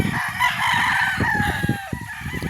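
Farmyard chickens clucking close by in a backyard flock of about 117 birds, while a rooster lets out a drawn-out crow partway through, the clucks coming in quick irregular bursts.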